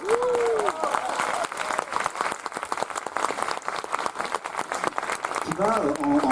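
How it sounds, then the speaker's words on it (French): An audience applauds a choir leader at a choral event, a dense crackle of clapping that follows a brief vocal note and continues throughout, with singing voices rising again near the end. "je vous présente Florent Robert, sur vos applaudissements spontanés."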